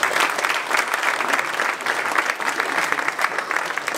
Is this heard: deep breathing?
no